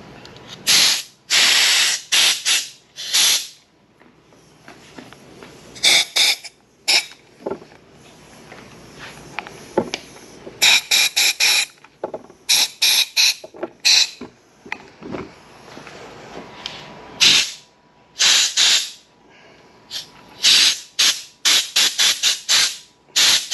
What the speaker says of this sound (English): we're going to use the air compressor to basically inflate the grip a little bit and slide it back on.